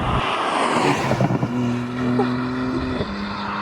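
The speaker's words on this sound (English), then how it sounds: "This wonderful S58 engine up front, an inline 6-cylinder, of course, can produce 460 horsepower and 550 newton meters of torque." A BMW M2 with the S58 inline six-cylinder engine runs steadily at a moderate, close level, its broadband rumble giving way to a sustained droning tone that holds and then steps lower, with no one talking.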